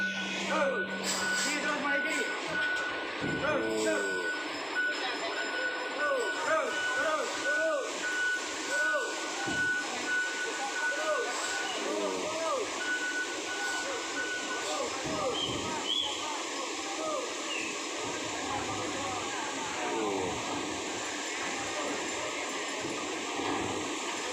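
Reversing beeps from a bus backing up at Merak port, a steady train of evenly spaced tones running throughout, with engine rumble, traffic noise and people talking nearby.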